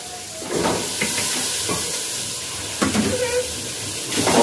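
Potatoes dropped into frying masala curry set off a loud, broad steamy hiss and sizzle that swells and continues, with clattering pan noises mixed in.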